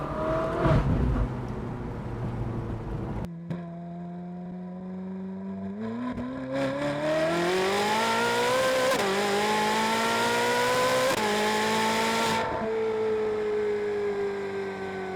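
A Ferrari's naturally aspirated 4.5-liter V8 roars and climbs steadily through the revs, its pitch rising over several seconds before easing off, loud and close.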